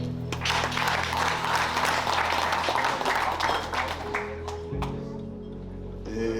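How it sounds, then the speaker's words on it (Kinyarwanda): Wedding guests at a traditional Burundian celebration break into applause, a dense crackle of many hands that holds steady, then thins and fades near the end with a brief swell at the close. "mwakomera amashyi"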